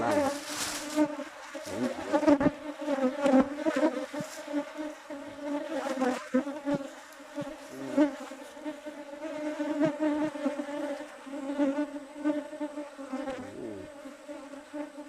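Wild cavity-nesting honey bees swarm at their nest in a steady, dense buzz that stays close and loud throughout, with no voices.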